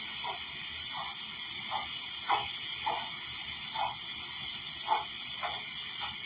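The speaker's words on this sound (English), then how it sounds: "I'm going to turn it on low because this frying pan really cooks" Food frying in a hot frying pan on a stove hisses and sizzles steadily, with soft intermittent pops and crackles recurring every half second or so, close and fairly quiet.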